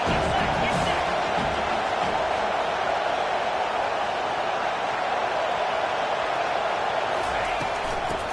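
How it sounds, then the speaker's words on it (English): Steady stadium crowd roar from the NCAA 25 college football video game fills the background, a continuous dense wash of fans at moderate level with broadcast commentary talking over it. "This crowd trying to make life miserable for this offense."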